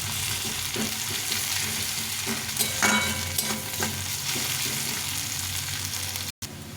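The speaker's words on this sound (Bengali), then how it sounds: "পেঁয়াজটা একটু লাল লাল করে ভেজে নেব" Onions sizzle steadily as they fry in hot oil while a utensil stirs and scrapes the pan now and then, close and fairly loud, with no voices.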